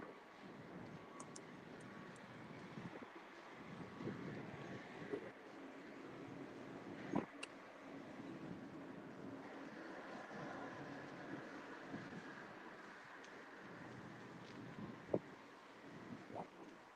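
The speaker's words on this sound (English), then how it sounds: "It's all windy over here." Wind buffets an outdoor microphone during a morning walk, making a steady rumbling roar with occasional louder gusts and thumps and no speech.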